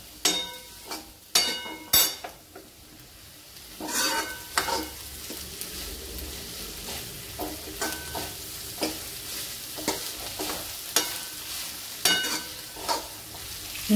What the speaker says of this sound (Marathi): आता ही तेलात आपली परतून झालेली आहे